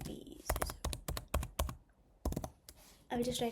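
Code typed on a computer keyboard, quick bursts of close, crisp key clicks in uneven clusters with brief pauses, fairly quiet overall.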